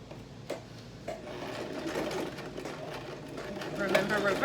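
A sewing machine runs in short bursts, then steadily, as it sews a cotton face mask, loud and close, with a voice talking over the stitching.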